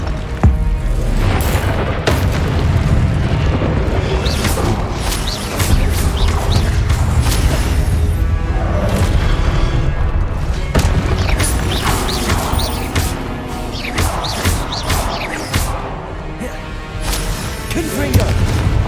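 Spell blasts from the Hogwarts Legacy video game, Confringo fire bolts and Incendio flames, burst as repeated loud booms and crackling impacts over game music, with shouted spell incantations between them.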